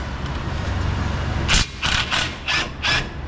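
A ratchet clicks in several short bursts while tie rods are taken off the steering knuckle of a Ford F150 pickup, with quiet shop background between the sharp mechanical rattles.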